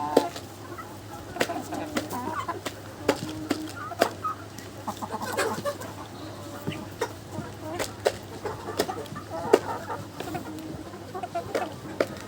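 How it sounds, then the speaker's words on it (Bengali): Chickens cluck in short, repeated bursts while one is held and given water and feed by hand at a small home flock; a steady low hum runs underneath and soft voices murmur nearby. "মুরগিটার একটু কষ্ট করা লাগে ওর একটু ধরে ধরে আমার পানি খাবার খাওয়াইতে হয়"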